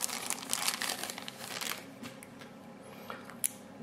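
Cellophane wrapping on an Acer Liquid Metal phone box crinkles and crackles as it is handled, with a dense burst of rustling in the first two seconds that thins to scattered crinkles and a sharp snap near the end.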